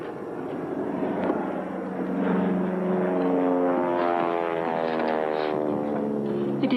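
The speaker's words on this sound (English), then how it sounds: "Sounds like a British plane." A British propeller plane flies over with a steady droning engine roar that swells slightly as it passes, loud and unbroken, with no voices.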